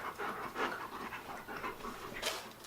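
A dog pants quickly and steadily nearby, a soft rhythmic huffing with a faint sharper sound at the very end.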